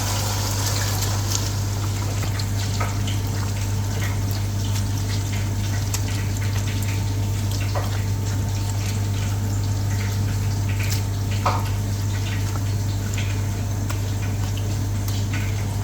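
Soaked rice, two cups of it, tipped into a pot of mutton chops pulao, a steady watery pouring and bubbling hiss over a constant low hum, with faint clicks, and no talk.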